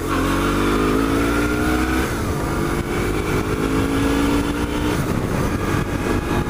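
A BMW R1100T motorcycle accelerates with a loud, close engine drone rising in pitch through two gear pulls, a brief dip between them, alone with no voices.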